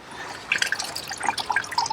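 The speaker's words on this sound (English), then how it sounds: "We have a bucket of water here. You put it in and you can hear the bubbles." Rapid bubbling and gurgling as a dry plant container is pushed into a bucket of water, close and lively, with many small pops and drips building over two seconds.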